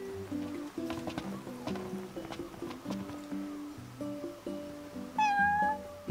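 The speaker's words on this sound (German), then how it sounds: "Eine Katze." A cat meows in the video game Final Fantasy XV, one clear rising-falling mew near the end over looping game music with melodic background tones.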